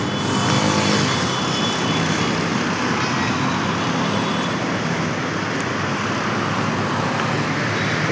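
Light Sunday traffic streams along the Hyderabad–Bengaluru national highway, a steady, loud, close roar of passing vehicles with no voices over it.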